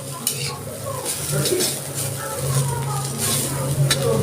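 Bitter gourd stir-fried in an iron wok, with a steady sizzle and repeated scraping strokes of a spatula against the metal over about four seconds; a voice is faintly present beneath the cooking.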